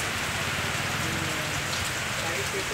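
Steady rain pours into a waterlogged yard at a college vehicle parking area, a dense, even wash of drops splashing on standing water, continuous and close throughout with no voices.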